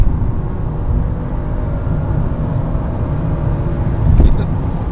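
Tuned BMW F30 335i engine droning steadily while driving fast, a loud continuous low rumble with a brief swell near the end, heard from inside the car.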